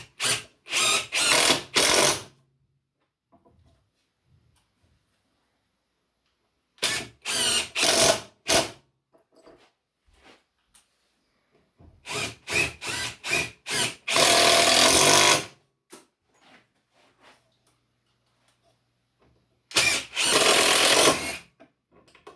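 A power drill drives 1.5-inch screws into wood with a long bit while building a shaving horse, in short bursts of whirring and grinding separated by quiet pauses, close and clear.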